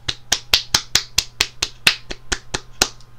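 Fourteen sharp hand claps in a quick, fairly even rhythm, close to the microphone and crisp, each one a distinct smack with nothing else around it.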